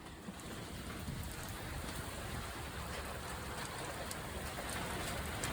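Rain falling in the desert at Wonder Valley, California, a steady even hiss of drops on surfaces, moderately close, with no break and no voices.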